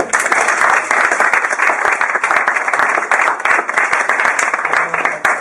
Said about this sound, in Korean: 그러니까 좋은 질문 했으니까 제가 한번 박수를.